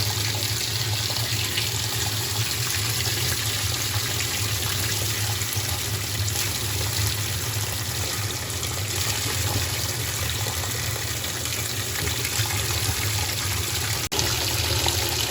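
Water rushes steadily into a washing machine filling for a small light load of white t-shirts, a constant close hiss with no break and no talk.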